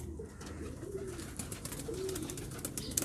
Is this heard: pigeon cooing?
yes